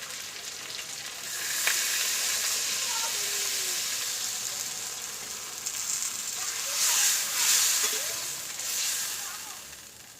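Water splashed into a pan of well-fried spice paste for a vegetarian pointed gourd curry with boiled potatoes, setting off a steady broad sizzle that flares in a few louder bursts near the end.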